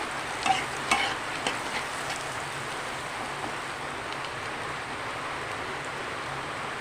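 Onions frying in a pan with a little turmeric powder, a steady close sizzle with a few stirring scrapes near the start.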